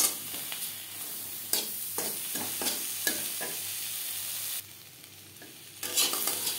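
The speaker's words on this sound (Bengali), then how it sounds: "পেঁপে ভাজা হয়ে গেছে।" Papaya pieces fry in a pan with a steady close sizzle, broken by regular stirring scrapes and a short quieter pause before the sizzling returns.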